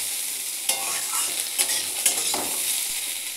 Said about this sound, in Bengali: আমি প্রথমে কড়াইয়ে সর্ষের তেল, শুকনো লঙ্কা আর গোটা জিরের ফোড়ন দিয়ে কুমড়ো, আলু, উচ্ছে এগুলো দিয়ে একটু ভাজাভাজি করে নিয়ে জল ঢেলে দেবো